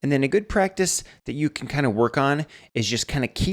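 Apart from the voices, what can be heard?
No everyday noise stands out behind the speech.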